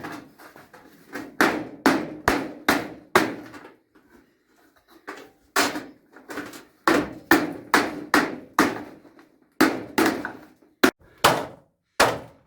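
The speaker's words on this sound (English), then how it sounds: "We're not afraid of doing a little bit of banging and hammering and what have you." Repeated hammer blows in a backyard recycling job building hugel beds, sharp and loud at close range, landing in quick bursts of several strikes separated by short pauses, with no talking.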